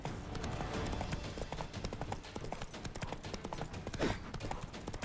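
Roach, the horse in The Witcher 3, gallops in a steady rapid clip-clop of hooves throughout, loud and close, with a brief whinny-like sound near the end and faint voice underneath.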